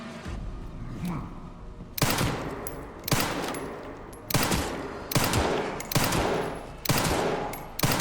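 Gunfire in the video game Resident Evil 9 Requiem: a faint shot, then a run of loud, sharp blasts about a second apart, each with a short decaying tail.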